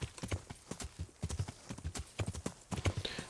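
Hooves clip-clop in a quick, uneven rhythm on hard ground, close and clear, with no voices, in the video game Kingdom Come: Deliverance.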